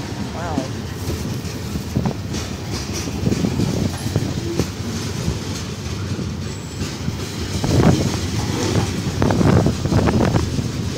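A Canadian National freight train rolls past over rough, bad track, with a loud continuous rumble, irregular clanks and thuds, and wind buffeting the microphone.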